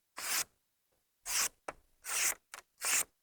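A Peltonen M23 Ranger Cub knife with its factory edge slices through ordinary paper in five short, crisp swishes, close and quiet, separated by brief pauses.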